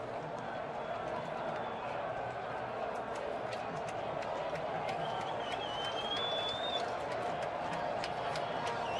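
A baseball stadium crowd during a 2013 ALDS playoff game, heard as a broad steady roar of cheering with scattered claps, distant and continuous beneath a faint whistle.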